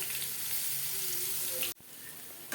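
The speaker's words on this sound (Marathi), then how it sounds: "तर लसणाची फोडणी देऊया" Chopped garlic hitting hot oil with cumin for a tempering, a loud steady sizzle that cuts off abruptly midway, then a quieter hiss with a brief burst at the end.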